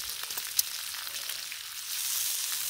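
Bacon frying on a Blackstone griddle, a steady bright sizzle with soft crackles and a single sharp pop, growing slightly fuller toward the end, close and without talk.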